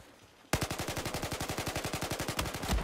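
Machine gun fire in Battlefield 4: after a short quiet lead-in, a sustained automatic burst of evenly spaced, loud, close rounds, a full magazine dumped rapidly alone without talk.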